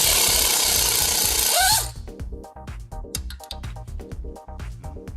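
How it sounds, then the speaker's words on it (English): A power tool roars loudly on a strut mount bolt on a Hyundai Tucson, then stops; a socket wrench follows with rapid, close, rhythmic ratcheting clicks as the bolt spins out. "Put a socket on the bolt, start spinning the bolt while pulling on the wrench"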